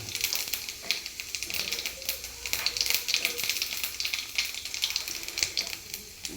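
Fenugreek and cumin seeds fry in hot oil with a continuous close sizzle and dense, fast crackling that stays steady for several seconds.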